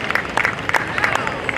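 Applause from a horse show audience at a Lions Club event in Cornersville, a steady patter of clapping with crowd murmur underneath, close and fairly loud throughout.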